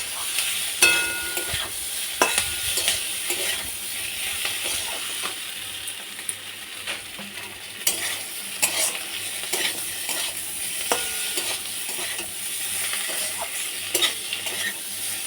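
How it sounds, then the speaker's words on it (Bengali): Boiled potatoes fry in a pan with onions, giving a steady bright sizzle broken by repeated scraping and clinking of a spatula as they are stirred, fairly close and loud with no talking. "ভেজে নিচ্ছি এবার আলুটাও দিয়ে দেবো ছেড়ে দিলাম আলুটা"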